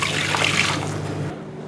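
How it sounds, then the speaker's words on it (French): Pastry cream mixture for a galette des rois pours steadily into a clean saucepan, a continuous close liquid trickle and splash lasting over a second before cutting off abruptly. "Ensuite, il faut reverser ce mélange dans une casserole propre."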